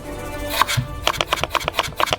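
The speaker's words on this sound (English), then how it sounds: "Cut them into slices, but already thicker than the last time" A knife chopping potatoes into thick strips on a cutting board, with a brisk run of sharp, evenly spaced thuds that comes close and clear.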